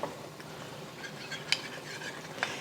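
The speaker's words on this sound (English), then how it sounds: "And adding the cornstarch slurry back in. Not back in, just add it in. And give it a stir." Ground beef sauce with cornstarch slurry is stirred in a pan, giving a low bubbling sizzle and a couple of light metallic taps of the utensil.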